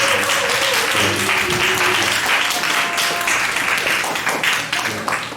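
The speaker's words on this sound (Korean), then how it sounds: "잠시 일어나 주시면 여러분 박수하도록 하겠습니다." Sustained, dense applause from a church youth-service congregation welcoming a high school second-year student, steady and fairly loud throughout with a faint voice briefly audible underneath, tapering slightly at the end.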